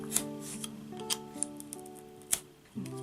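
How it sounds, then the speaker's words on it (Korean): A blade makes several passes along the core of thin cardboard for a miniature ice cream cake takeout box, giving faint, sparse scratchy ticks over a soft steady musical tone. "이렇게 심 쪽에 여러 번 지나가주면서 잘라줍니다."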